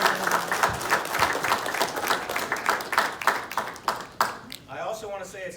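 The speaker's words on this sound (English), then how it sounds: "let's give a round of applause to Joel's family." Audience applause for a retiring man's family at a retirement speech, dense clapping sustained for about four seconds, then thinning out as a voice starts speaking.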